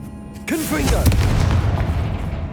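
A Confringo spell explosion in Hogwarts Legacy booms loudly after a short spoken incantation, followed by a rumbling, crackling blast that lingers for about two seconds.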